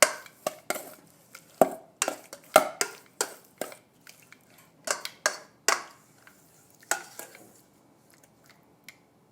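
Chicken pieces tossed in a marinade in a bowl, making a string of short, sharp wet clacks and utensil knocks in an uneven rhythm, close and moderately loud, fading toward the end.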